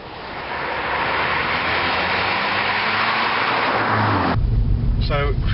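A Skoda Fabia vRS estate with automatic paddle-shift transmission cruising gently in drive, giving a steady broadband road and engine rumble that holds throughout and shifts character near the end, with no speech.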